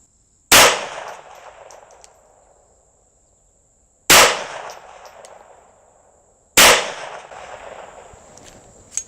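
An early pistol, a forefather of modern pistols, fires three loud, sharp shots spaced a few seconds apart, each with a long echoing decay outdoors.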